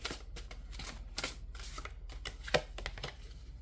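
Oracle cards shuffled close up, giving soft, rapid riffling and flicking bursts over a low steady hum, with no voices.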